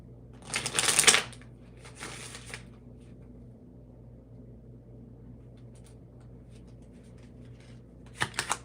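Tarot cards riffle and shuffle close by in a couple of quick bursts, then a quiet hum before a short final flurry of card flicks.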